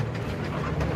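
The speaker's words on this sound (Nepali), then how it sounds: "ट्रेन अहिले दिल्लीसम्मको यात्रामा लागिरहेको छ" A passenger train between Lumbini and Delhi rumbles along with a continuous low, heavy roll and faint rhythmic clatter, close and steady throughout the short stretch, with no voices.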